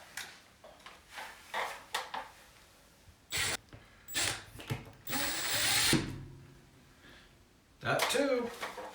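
A drill bores pilot holes into a ceiling joist for hooks, short bursts of close whirring and ratcheting between stretches of a person talking.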